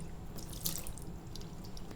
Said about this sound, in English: you need to rinse the flask out immediately with hot water